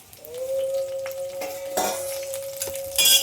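Chillies sizzle and fry in a pan with a steady hiss, and a spoon scrapes and clinks against the metal in short bursts. There is no talking.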